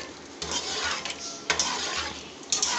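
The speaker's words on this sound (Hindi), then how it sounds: "अब बस हम इसको भून लेंगे अच्छी तरह से।" Beef with yogurt masala being stir-fried in a pot for achar gosht, a steady scraping of a spoon against metal with soft sizzling underneath and a few sharper clinks, heard close with no talking.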